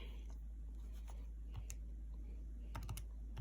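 Calculator buttons pressed in a quick run of soft, faint taps over a low steady background hum.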